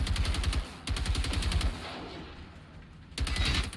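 Gunfire and explosions from base defence turrets in Generation Zero, heard as loud, dense bursts of rapid shots with booming blasts, easing off briefly in the middle before another heavy volley starts.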